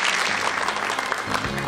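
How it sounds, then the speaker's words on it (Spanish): An audience applauds a contestant named Mónica at a comedic Miss Peru pageant show, a dense steady wash of clapping filling the whole moment at close range. "Fuerte el aplauso para Mónica, por favor."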